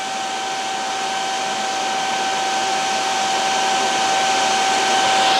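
A TIG welder runs steadily on a stainless steel cotton candy pan repair, a constant high electrical hiss with a thin whine that swells slightly in loudness throughout.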